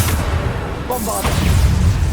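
Bombarda spell exploding in Hogwarts Legacy combat: a loud, continuous booming blast with rumbling low end amid dense battle noise, and a voice speaking briefly over it.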